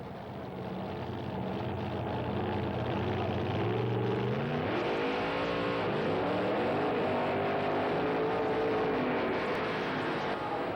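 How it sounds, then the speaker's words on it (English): Street-style drag racing cars fitted with funny car motors roar steadily, the engine note climbing in stepped pitch rises as the revs build, loud and close throughout with no voices. "Street-type cars with funny car motors, ladies and gentlemen, the Wild Bunch."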